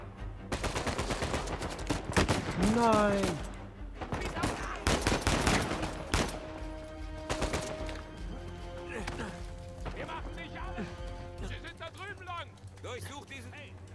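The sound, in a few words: gunfire in video game Uncharted 4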